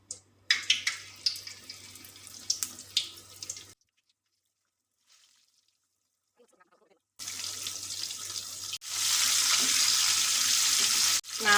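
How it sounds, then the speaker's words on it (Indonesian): Flour-coated chicken pieces drop into hot oil and fry with a steady broadband sizzle, starting after a brief crackle and a quiet pause, then growing louder and denser toward the end. "Kita goreng."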